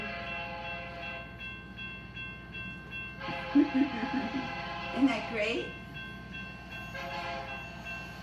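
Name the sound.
recorded train sounds played as music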